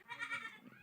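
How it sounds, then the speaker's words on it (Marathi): A young goat bleats in a short, wavering cry, close by and fairly soft, with no other voices around. "छोट्या छोट्या बकरे आहेत हा"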